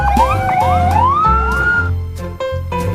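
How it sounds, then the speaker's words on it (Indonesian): A toy fire truck wails a loud electronic siren up close, rising and falling sweeps that shift into a rapid warbling pattern, with no talking. "di sini ada water cannon, truk pemadam kebakaran"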